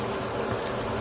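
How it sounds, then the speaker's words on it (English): Water pours steadily into a pot of tomato fish stew, a continuous splashing, gurgling rush heard close up for a brief moment. "so now I'm gonna add the water"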